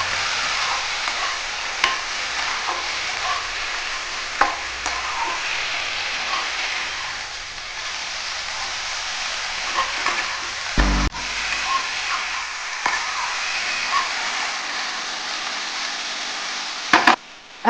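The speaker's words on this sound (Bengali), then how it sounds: "এখন মশলা দিয়ে ভালো করে কষিয়ে নেব।" Drumsticks and mixed vegetables sauté with cumin paste and green chili paste in a pan, giving a long, steady, hissing sizzle. A few isolated knocks and scrapes from stirring sound close by. No talk.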